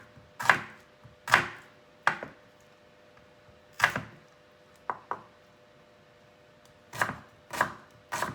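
A knife chops beans on a board in a home kitchen, sharp isolated thuds arriving in irregular pairs and single strokes with quiet gaps between, close and clear, no talking.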